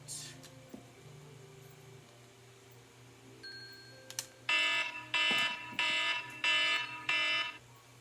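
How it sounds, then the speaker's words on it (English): An electronic alarm beeps in a steady run of five loud, evenly spaced tones over a low background hum. "pesky alarms."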